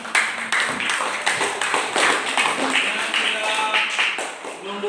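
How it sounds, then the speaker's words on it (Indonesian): Teachers in a school classroom clap for a student, a brisk run of hand claps with distinct individual slaps, close and moderately loud, with voices talking over the applause. "teman-teman guru memberikan aplaus kepada Naya Ika"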